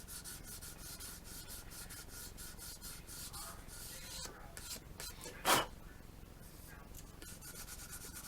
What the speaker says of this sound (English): It sands really easy, just like any other primer. Nice easy sanding.